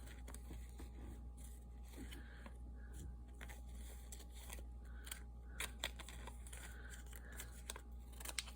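Scissors snip through paper to cut jagged pieces for a Halloween mini book craft, giving quiet, irregular crisp cuts and a few sharper snips over a steady low hum in a close, indoor setting.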